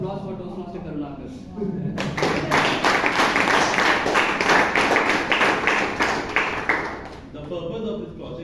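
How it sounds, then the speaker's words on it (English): A Toastmasters meeting audience in Bangalore claps for about five seconds after a speaker's voice, a bright burst of many hands that then tapers off. "Can we have a round of applause for Toastmaster Karunakar?"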